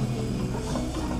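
Steady mechanical whirring with a faint clicking, ratchety texture from the gears turning inside a running Rusi Gala 125 scooter gearbox, close and continuous.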